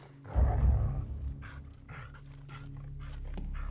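A dog indoors in a royal hall pants and gives soft whimpers and sniffs, with a louder burst at first and then quieter short puffs; no one speaks.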